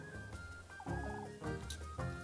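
Nearby chicken clucking in a few distinct bursts, a rising warbling cackle in the middle followed by shorter clucks, fairly clear over light background noise with no talk.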